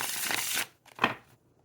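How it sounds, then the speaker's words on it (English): Tarot cards of linen cardstock are riffled in a quick shuffle, a fast crisp flutter that ends in a brief slide and tap as the deck is squared, close up and clear with no voices over it. "Let's do some shuffles here."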